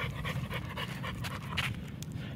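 A heavy-pulling dog pants steadily during an obedience leash walk, a close, continuous rhythm of quick breaths with no talking.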